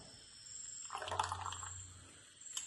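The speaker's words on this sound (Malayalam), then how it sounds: "മാവ് ഈ പാത്രത്തിലേക്ക് ഒഴിക്കുകയാണ്" Thin wheat dosa batter is poured from a mixer jar into a vessel in a home kitchen, a faint, brief liquid pouring gurgle that rises and fades over a quiet background.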